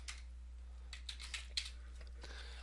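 Quiet, close keystrokes on a computer keyboard tap out a short word in a brief irregular burst over a faint steady electrical hum.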